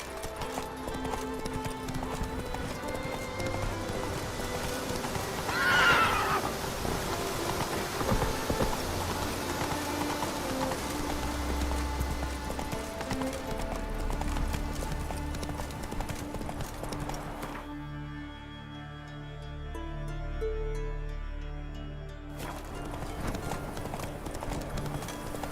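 Horse hooves clip-clop in The Witcher 3 game with a steady rhythmic gait over a bed of rain, a brief neigh near the start and game ambience, the sound thinning out and returning partway through.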